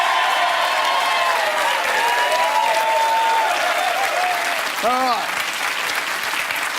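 On the Millionaire Hot Seat game show set, a studio audience claps loudly and continuously for several seconds, a full wall of sound while a voice speaks briefly over the ovation.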